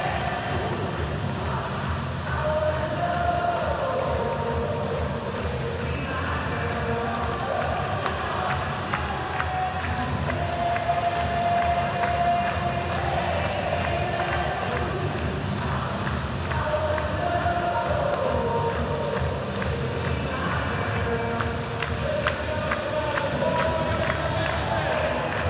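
A huge stadium crowd at a Savannah Bananas game in the Carolina Panthers' NFL stadium in Charlotte, roaring and cheering continuously at high volume, with an announcer talking over it.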